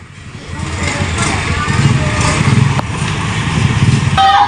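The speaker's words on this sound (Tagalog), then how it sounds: "Ito na po yung motor." Honda Scoopy motor scooter engine running steadily close by with a continuous buzzing drone and slight rises in intensity, with people talking over it.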